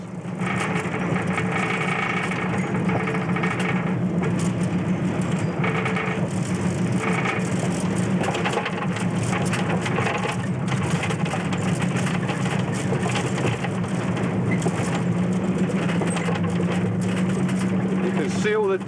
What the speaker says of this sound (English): This is an uphill slope, quite steep, and the engine is working quite hard to push us up here.